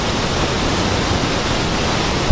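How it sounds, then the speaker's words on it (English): Steady, loud broadband roar of Davis Falls in Nepal, constant throughout, with a brief low thump near the end. "This waterfall is called Davis Falls"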